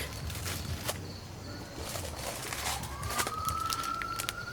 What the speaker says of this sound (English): Yep, sirens, folks.